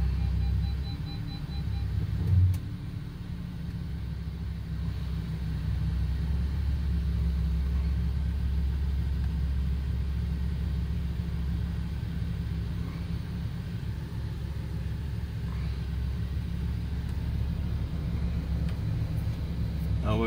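A Lamborghini Huracan EVO creeps slowly out of a garage, its engine giving a low, steady idling rumble that holds for the whole stretch, close and fairly even, with no speech.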